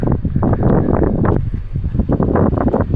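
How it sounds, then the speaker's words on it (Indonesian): Steady rushing noise beneath a bridge over the Tukad Bangkung river, wind or flowing water, continuous and fairly loud with gusty swells throughout, no voices. "dari bawah jembatan sini nih terdengar jelas banget suara yang entah suara angin, entah suara air sungai yang di bawah"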